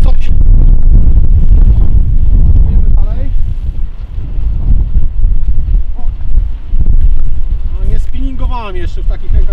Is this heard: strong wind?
yes